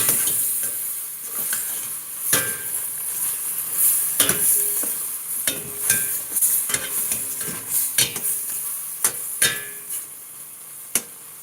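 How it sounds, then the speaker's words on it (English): Steady sizzling of cubed beef skirt steak frying in a pan, with occasional clinks and scrapes of a utensil stirring throughout. "looks like we've got some good frying up going."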